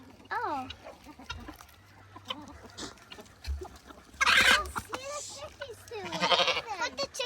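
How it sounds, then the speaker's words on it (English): Hen clucking with baby chicks peeping on a farm, bright repeated chirps and clucks in short bursts, close by, mixed with children and adults talking. "Show them the baby chicks."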